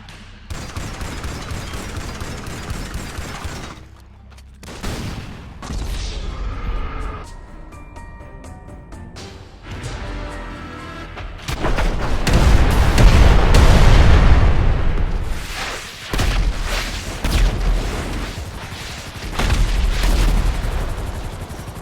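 Rapid bursts of gunfire and booming explosions from GTA Online during the Cayo Perico heist, loud and close, with sharp volleys, lulls, and a heavy blast in the middle.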